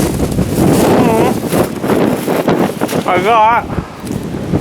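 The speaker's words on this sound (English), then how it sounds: "It's really windy." Strong wind ahead of an approaching big storm buffets the microphone in heavy gusts, roaring over someone speaking briefly in the foreground.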